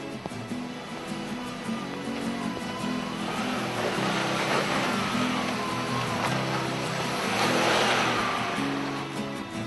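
Four-wheel-drive vehicles grind up a wet, slippery track at Mount Walker near Lithgow, with a steady, loud engine drone, revving rising and falling, and splashing and wheel noise throughout.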